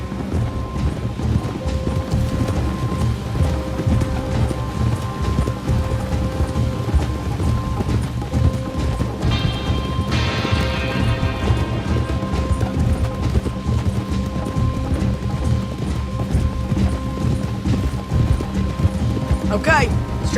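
Horse hooves clip-clop steadily in the video game Red Dead Redemption 2, a continuous rhythmic clatter beneath game music and character dialogue, with a brief sharper clatter partway through.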